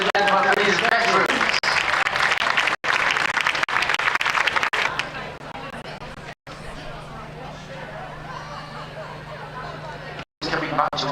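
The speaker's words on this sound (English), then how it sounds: "Big round of applause," Crowd applauding veteran gundogs, including an Irish Setter and a Welsh Springer Spaniel, at a championship dog show in Leeds; sustained loud clapping with a few abrupt breaks, mixed with crowd babble and fading to softer, steadier clapping.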